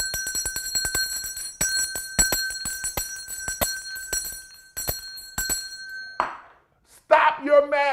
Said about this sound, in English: I'm ringing the bell on everybody.